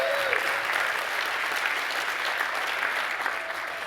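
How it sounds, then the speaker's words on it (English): An audience at a motivational talk bursts into steady, dense applause that stays strong and even before easing slightly near the end. "Give them a hand clap, y'all."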